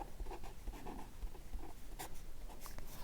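A pen writing out a maths solution on paper, heard as steady close scratching and tapping strokes in a quiet room, faint and continuous.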